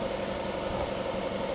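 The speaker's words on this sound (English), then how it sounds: "Compressor time!" An air compressor runs continuously in a garage during a timing chain and gear set replacement, a steady droning motor hum with a prominent tonal whine, close and unbroken.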